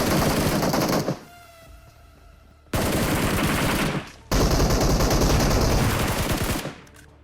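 Gunfire in PUBG on the Erangel map, with dense, rapid automatic bursts in long loud volleys, separated by short gaps in which fainter distant shots can be heard.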